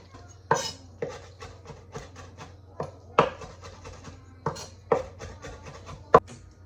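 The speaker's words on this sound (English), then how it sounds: "Then we're gonna cut this up a little bit." A knife chops wakame seaweed on a cutting board with sharp, uneven strokes, some louder than others, spaced about half a second to a second apart. Nobody speaks.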